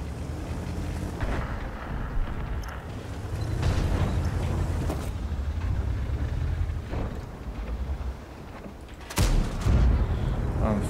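Cannon fire from a tank in World of Tanks, a game battle with loud booming blasts near 1.2 and 9.2 seconds over a steady rumbling engine and ambient bed.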